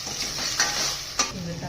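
Red chili powder dropped into a hot tempering for lentil curry and stirred, a steady close sizzle with two brief scraping accents, no talking.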